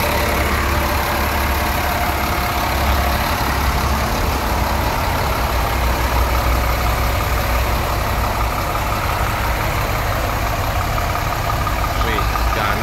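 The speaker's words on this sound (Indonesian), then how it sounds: "Ini mesinnya halus sekali. Enak ya Scania." A Scania bus engine idles steadily in its rear engine bay, a smooth, even rumble with a broad hiss on top that holds at a constant level from start to finish.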